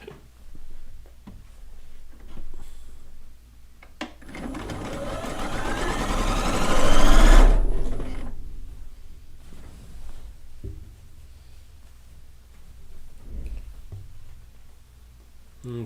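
A sewing machine runs in one steady burst of a few seconds, rising and then stopping, as it stitches strips of fabric onto a dog-themed quilt top, with quiet handling noises before and after.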